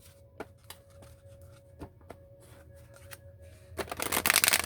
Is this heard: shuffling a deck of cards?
yes